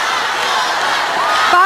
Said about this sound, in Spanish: Les quiere dar este aplauso maravilloso